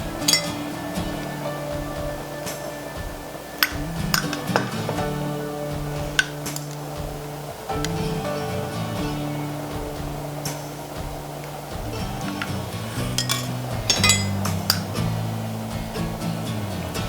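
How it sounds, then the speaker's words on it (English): Garlic sauerkraut is stirred and ladled into glass canning jars, giving repeated sharp clinks and taps of utensils against glass. The irregular knocks sit close over a low background hum in a kitchen. "Give this a nice stir. We'll get this into the canning jars."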